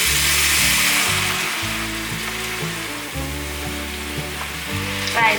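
Bok choy and water bamboo shoots are stir-fried in a pan, sounding as a loud, close sizzle with repeated scraping and tossing strokes over a low droning hum, the sizzle fading slightly and flaring again near the end, with no voices.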